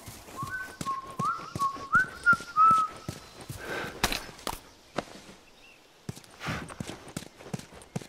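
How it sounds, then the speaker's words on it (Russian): A character in The Last of Us video game whistles a short, bright tune, stopping and starting, over steady clip-clopping horse hooves and footsteps, then the whistling ends while the hooves carry on. "Я могу свистеть."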